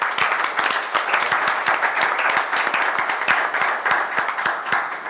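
Audience at a philosophy conference on critical thinking applauds, brisk clapping with individual claps audible in a steady, moderately loud burst.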